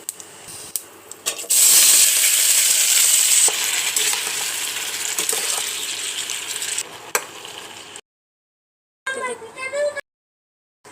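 Dried red chillies and panch phoron spices hit hot oil with a loud, steady sizzle lasting several seconds before it cuts out, followed by a brief burst of voice.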